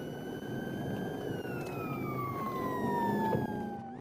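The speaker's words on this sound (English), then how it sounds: "Sirens blared as the chase weaved through a northeast Houston neighborhood" Police sirens wail steadily during a chase through a northeast Houston neighborhood, with a high pitched tone that slowly falls as the vehicles move, loud and continuous with a faint background rumble.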